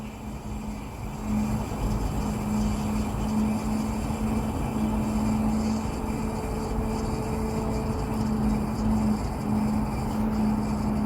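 Propane gas hisses and rushes steadily while refilling a 1 lb Coleman cylinder, a continuous close hiss with a faint tonal whistle coming and going, no talking over it.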